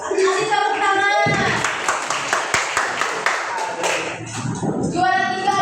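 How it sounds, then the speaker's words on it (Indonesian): Students in a classroom clapping for a classmate who placed second, a short burst of close hand claps framed by a teacher and children talking before and after. "Kasih tepuk tangan."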